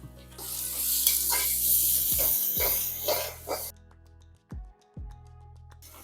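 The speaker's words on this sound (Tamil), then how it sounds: "பாருங்க இது நல்லா வதங்கட்டும்" Chopped onions sauté and sizzle in a hot pan while a chicken dish is cooked, a broad steady hiss that fades out after a few seconds, with a few clunks following.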